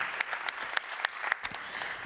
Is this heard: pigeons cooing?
no